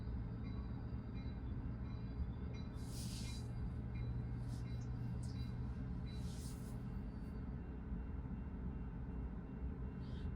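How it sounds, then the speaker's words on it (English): A slow train rolling past with a steady low rumble, faint hissing bursts of air brakes rising above it now and then. "there's a train coming through, nice and slow"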